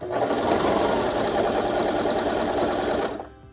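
An older Brother LS2300PRW sewing machine under electrical repair stitches loudly and continuously at close range, its motor and needle whirring steadily for about three seconds before stopping abruptly.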